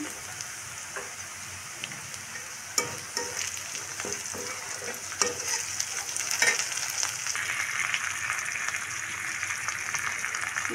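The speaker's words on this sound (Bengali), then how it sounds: "পেঁয়াজটা হালকা ব্রাউন কালার হয়ে আসছে। এখন আমি দিয়ে দেবো এখানে আস্তে আস্তে সবগুলো মশলা অ্যাড করবো। এখানে বাটা মশলা" Onions and ground spice paste fry steadily in a pan, a continuous close sizzle with scattered crackles and a few sharp pops and spoon taps, for Bengali pangas fish bhuna.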